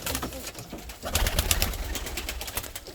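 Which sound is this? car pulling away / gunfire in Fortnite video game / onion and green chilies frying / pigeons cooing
pigeons cooing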